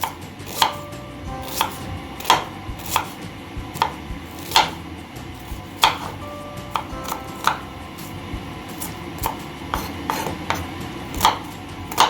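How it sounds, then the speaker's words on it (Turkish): A knife finely chops an onion steadily on a board, sharp evenly spaced taps about every half second, close and clear with no talking. "Bundan sonrasını küçük piyazlık. incecik incecik. Bu şekilde doğrayacağız."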